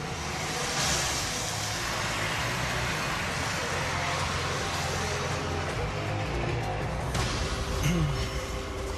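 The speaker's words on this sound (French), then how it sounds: "Les policiers doivent sacrément appuyer sur l'accélérateur pour le rattraper." A Belgian police car accelerates hard to catch a speeding car, its engine roaring loud and steady against dense road and wind noise, heard from inside or close by.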